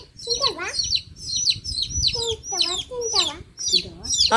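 Repeated high, rising peeps from baby chicks, several calls in quick succession throughout, close by, with some low background murmur.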